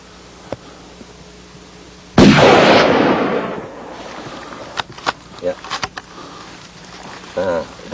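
A single loud rifle shot cracks out during a mountain hunt, its sharp blast echoing and decaying across open terrain, followed by quiet voices and small handling sounds.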